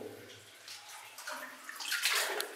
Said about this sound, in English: I'm disturbing the water too much